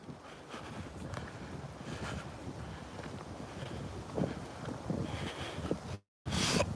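Steady rumbling wind buffets the microphone, a low blustery roar with gusts, briefly dropping out near the end before returning.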